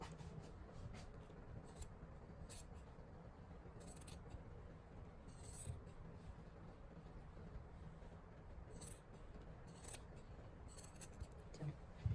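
Scissors snip steadily through fabric while a Pakistani salwar is cut straight without pleats, a run of close, crisp cutting strokes with short pauses over a quiet room.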